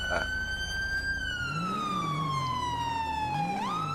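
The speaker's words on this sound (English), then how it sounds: "You can turn the siren off because these AIs can't hear them." A continuous electronic police siren in the game FiveM wails steadily, its pitch sliding down slowly before jumping back up, with a low engine rumble underneath.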